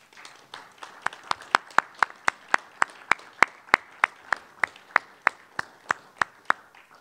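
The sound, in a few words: applause for newly elected deputy mayors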